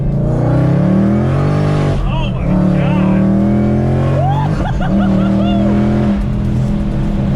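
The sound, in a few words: Whipple supercharged Ford Mustang S550 accelerating in second gear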